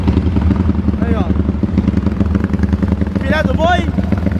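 A Honda Today scooter with a new 371cc engine runs at a steady idle on its first start, its mechanical clatter continuous beneath loud overlapping talk from nearby men.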